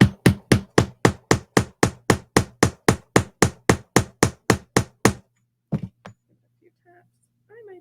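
Rivet hammered over a washer through fabric: a fast, steady run of about seventeen sharp, loud hammer blows, then a pause and two or three final strikes before near silence.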